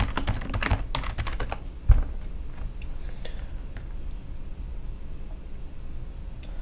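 Quick bursts of keystrokes on a computer keyboard as an email address and password are entered, clattering close up at the start and then thinning to scattered taps.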